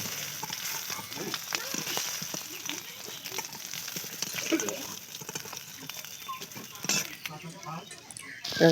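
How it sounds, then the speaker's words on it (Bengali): Fish fry in hot oil in a pan with a steady, close crackling sizzle throughout, under a voice speaking now and then. "মাছ কটা ভেজে নিচ্ছি"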